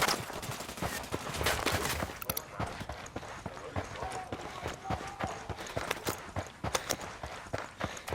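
Gunfire from a Ghost Recon Wildlands firefight: rapid, dense volleys of shots crackle across the whole clip, loud and close, with speech mixed in among the bursts.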